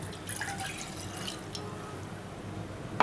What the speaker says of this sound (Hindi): इसमें एक ग्लास पानी डालें